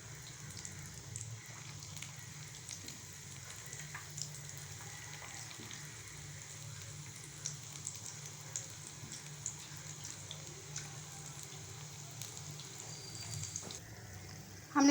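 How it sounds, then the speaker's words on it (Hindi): Kofta frying in oil on medium-low heat, a soft continuous bubbling sizzle, fairly quiet and steady throughout, with a brief clatter at the very end. "हम इसको मीडियम टू लो पे फ्राई करेंगे ताकि ये अच्छी तरह से पक जाए।"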